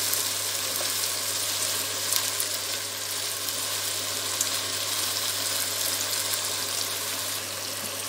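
Veal kidneys simmer in sauce in a pan, a steady dense sizzling and bubbling that stays constant and fairly close throughout, with no voices.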